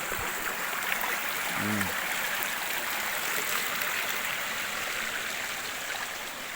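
Flowing water of a river in a lush countryside setting, a steady broadband rush heard fairly close and continuous throughout, with a brief low thump near the start.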